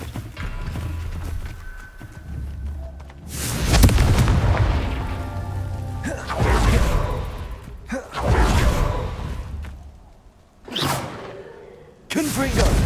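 Confringo explosive spell cast in Hogwarts Legacy, heard as a series of heavy booming blasts with rumbling tails separated by quieter gaps, with no one speaking.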